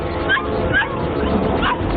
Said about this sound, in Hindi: घर के नीचे किसी पर भौंक रही है।